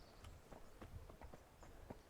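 A horse's hooves clip-clop at a walking pace in the video game Kingdom Come: Deliverance, an irregular series of soft, fairly faint thuds.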